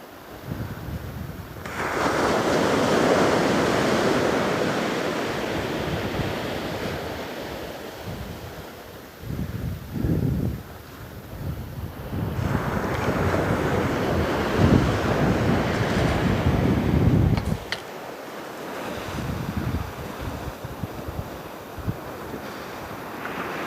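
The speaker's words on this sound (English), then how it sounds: "So, bit of a wind coming up." Wind rises at a beach during surf fishing, roaring and buffeting the microphone in long gusts over a steady wash of surf, loud and close with brief lulls between blasts, and no one speaks.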